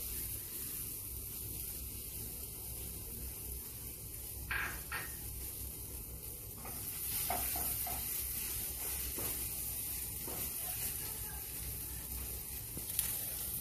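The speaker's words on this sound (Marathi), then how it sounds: "आता काढून घेते। कांदा भाजून घेते।" Onion roasts in a pan for stuffed brinjal, giving a soft, steady sizzle and hiss, broken by a few light clicks from stirring.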